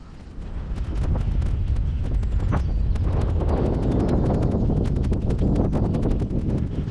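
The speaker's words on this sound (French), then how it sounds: "il y a du vent" Strong wind buffets the microphone beside a carp-fishing pond, a constant low rumbling roar punctuated by sharp gust crackles, loud and unbroken for the whole stretch.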